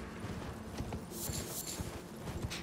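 Horse hooves clip-clop steadily while riding through the open world of the video game Elden Ring, a rhythmic series of soft thuds under a continuous bed of game ambience.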